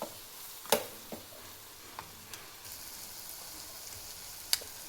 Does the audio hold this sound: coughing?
no